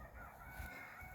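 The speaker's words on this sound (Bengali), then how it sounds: "এখানে মুরগির আওয়াজ পাওয়া যাইতেছে" Chickens clucking in a village yard planted with lemon and garlic, a steady low murmur of fowl close by with no talk.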